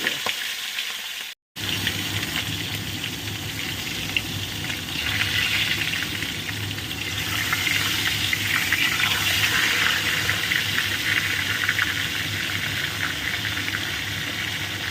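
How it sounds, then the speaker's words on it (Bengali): A salted, turmeric-rubbed fish head fries in hot oil for mung dal, giving a steady, dense sizzle and crackle that runs close and constant throughout after a brief dropout near the start. "এটা আমি সুন্দর করে নুন হলুদ মাখিয়ে নিয়েছি নিয়ে ভেজে নিচ্ছি মাথাটা"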